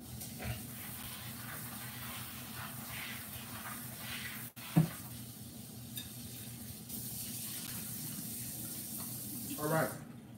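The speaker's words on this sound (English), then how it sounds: "I'm going to go rinse these real fast." Cauliflower rinsed under a running kitchen tap: a steady, close rush of water splashing into a sink throughout, with a brief knock midway and some faint background voice.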